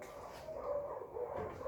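Dogs bark repeatedly in the background, a steady chorus of yaps and barks at moderate distance, with no speech over them.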